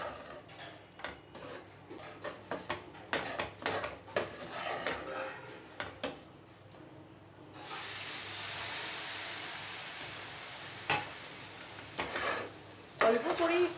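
Semolina with raisins stirred and fried in a pan, with scattered spoon clicks and scrapes against the metal, then a steady, brighter sizzling hiss rising and holding through the second half.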